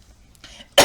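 A single sharp cough bursts out at the very end of a short, quiet stretch, close and loud after faint rustling.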